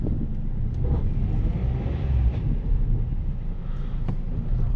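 A Peugeot 107 with a robotized automatic gearbox runs at idle, a steady low engine rumble with faint clunks as the gearbox engages, heard up close with no speech.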